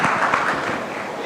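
A brief burst of audience applause at the NDTV Yuva 2025 event in Mumbai, close and dense clapping over about a second with a voice under it.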